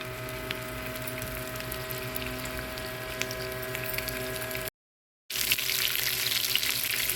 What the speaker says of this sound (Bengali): এখন কোফতাগুলো আমি একটা ফ্রাই প্যানে নিয়ে নিয়েছি। এখন কোফতাগুলো ভেজে নেব।